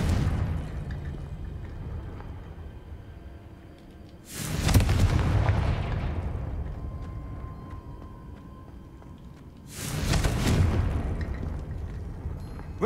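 Two loud Confringo spell explosions from the video game Hogwarts Legacy, each a sudden booming burst that rumbles and slowly fades, spaced several seconds apart.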